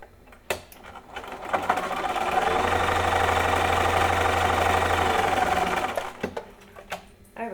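A sewing machine fitted with a 1/4 inch quilting foot stitches quilt pieces in a steady, fast mechanical whir. It starts, runs at constant speed for several seconds, then stops, with handling clicks before and after.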